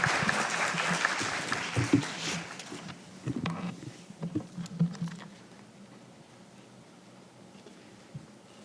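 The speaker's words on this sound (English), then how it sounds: "Please welcome him with a round of applause." An audience at a Tokyo finance forum's opening ceremony applauds loudly at first. The clapping thins to scattered claps after about three seconds and fades to near quiet by five seconds.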